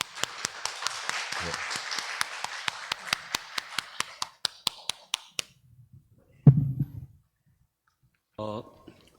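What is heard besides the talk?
congregation applauding missionary's arrival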